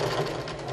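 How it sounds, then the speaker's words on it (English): A sewing machine runs steadily, stitching across a seam in a short, loud burst with a constant motor whir and rapid needle rhythm, and no talking. "I'm just going to sew across here"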